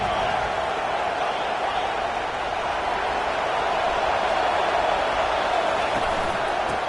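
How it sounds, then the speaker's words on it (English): Stadium crowd in a Madden football video game, a dense, steady roar of many voices holding at a constant loud level without letup. "Listen to the crowd energy here in the early going."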